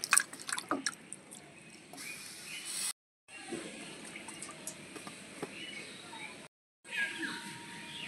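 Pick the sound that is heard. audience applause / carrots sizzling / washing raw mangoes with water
washing raw mangoes with water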